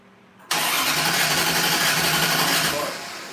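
A turbocharged 1969 Valiant V8 cranks over without firing, a loud, steady, rapid churning of the starter that runs for almost three seconds and then fades as the cranking slows.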